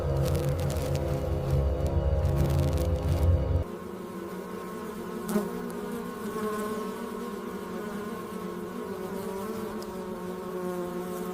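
Honey bees buzzing at their hive, a dense steady drone of many wings that drops in pitch partway through, close and loud throughout, with no voices.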